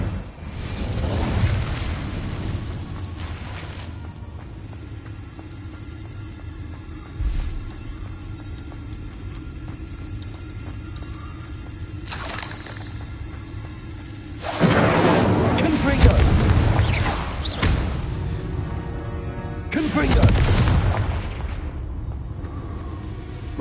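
Incendio fire spells cast in Hogwarts Legacy, booming fiery blasts that swell and rumble in several loud bursts over a low continuous background, with spoken spell names in between.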